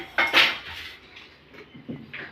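A metal plate and dishes being handled in a home kitchen while making jamun sweets, a couple of close clattering clinks followed by softer scraping.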